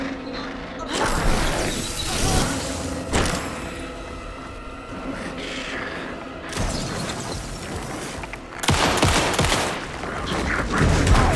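Gunfire in the video game Alan Wake II, heard as loud bursts of shots and crashing impacts over a dense game soundtrack, with several sharp onsets across the stretch.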